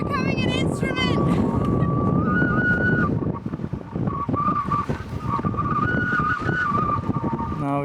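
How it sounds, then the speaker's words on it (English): Strong gusting wind buffets the microphone on an exposed mountain ridge, a loud continuous roar with whistling, tonal howls, while a voice briefly cheers near the start. "Just so you can see how windy it is."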